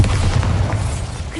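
A Bombarda spell explosion in the Hogwarts Legacy video game, a loud sustained boom with a deep low rumble that holds steady and fades slightly near the end.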